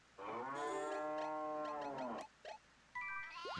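A cow in the farming video game Story of Seasons: Trio of Towns gives a long, loud, drawn-out moo, followed by a short grunt and a brief rising call, with no talking.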